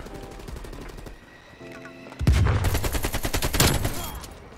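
AK-47 gunfire in Call of Duty Cold War, a loud close burst of rapid automatic shots erupting midway after quieter distant shots and game sounds, continuing to the end.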